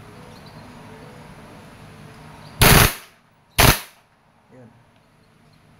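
A WE Airsoft M4 RIS gas blowback rifle, desert edition, fires two loud, short full-auto bursts about a second apart, each a sharp rapid rattle, followed by a faint click and a quiet background.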